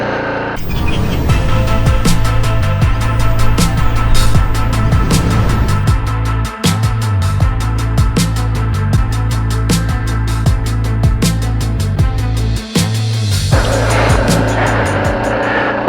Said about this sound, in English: this begins the official test ride / review of the BMW G310 GS